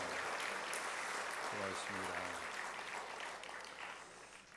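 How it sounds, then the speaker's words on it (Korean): Church congregation applauding in a university chapel service, a steady broad wash of clapping throughout that fades slightly toward the end, with a voice speaking briefly over it. "박수로 우리 축복하겠습니다."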